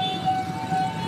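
KRL commuter train passing a busy level crossing, a steady tonal hum and faint rail rumble over crossing ambience, brief and moderately distant.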